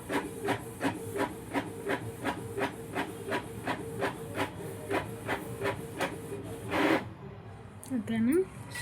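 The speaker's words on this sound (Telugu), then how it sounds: "ప్రింట్ అయితే వస్తుంది" Printer printing a shipping label, making a steady rhythmic mechanical clicking and whirring with a hiss underneath. A brief louder burst comes near the end, and a voice is faintly audible.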